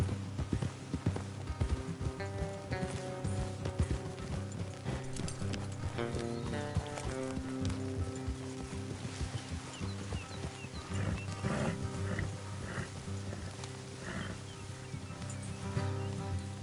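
Horse hooves clip-clop steadily through Red Dead Redemption 2, the regular hoofbeats running for the whole stretch over a dense bed of music and other game sounds.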